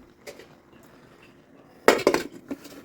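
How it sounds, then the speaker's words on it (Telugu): A lid is set onto a cooking pot of masala eggplant, giving a sharp metallic clank followed by a few quick rattling settles after a quiet stretch, close and clear. "మూత పెట్టేద్దాం"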